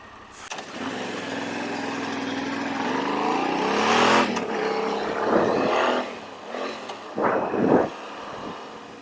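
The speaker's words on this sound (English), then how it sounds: "That's a cool car." An old car passes close by during a Norwegian Constitution Day ride, its engine rising to a loud rumble as it nears and then fading, with a few brief bursts of other street noise after it.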